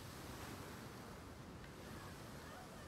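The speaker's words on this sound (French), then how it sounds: "L'écume et tout, le mouvement de l'eau est parfait." Ocean waves in Senua's Saga: Hellblade II roll and wash in a continuous, steady roar of surf, with a windy, hissing texture and no distinct breaks.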